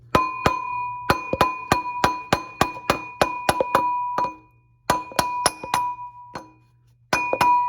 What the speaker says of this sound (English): I'm just going to tap it with a mallet